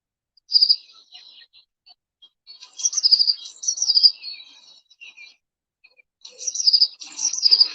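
A small bird sings high, bright phrases in three bursts separated by short silences, each opening with a couple of clear notes followed by quick chirping trills.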